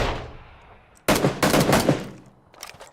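Gunfire in the PUBG battle royale video game, with a sharp burst of rapid automatic shots starting abruptly and rattling on for about a second, followed by a few fainter shots, loud and close, with no talk.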